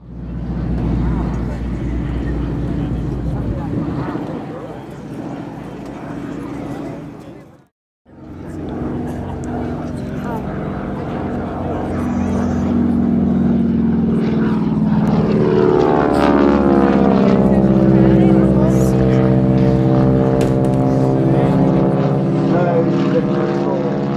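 A T-6 Texan propeller airplane at an airshow drones loudly and steadily, with a brief dropout, then the engine swells and shifts pitch as it passes; someone talks throughout.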